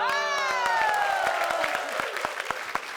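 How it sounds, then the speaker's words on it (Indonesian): A crowd claps and cheers while a loud sustained tone slides downward at the start; scattered sharp claps continue as it fades. "Tepuk tangan sekali lagi buat Pak Haji Mali, Pak Haji Jajon"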